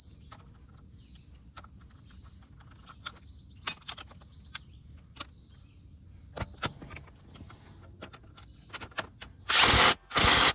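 An impact wrench fires in two loud, close bursts at the end while tightening a CV axle nut on a 2009-2014 Nissan Maxima, after scattered tool clicks and clanks with birds chirping outdoors.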